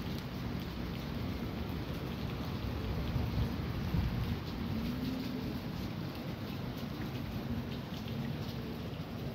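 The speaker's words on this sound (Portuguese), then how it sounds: "E continua chovendo." Steady rain with thunder during a day-long downpour in Brazil, a dense even hiss of falling drops over a low rolling rumble, moderately quiet and continuous with no voices.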